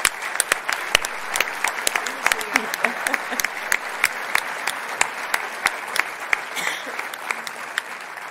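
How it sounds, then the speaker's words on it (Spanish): Audience applause at a Catalan poetry festival event, dense steady clapping from a crowd throughout, fairly loud and continuous. "crec que mereix un aplaudiment per això"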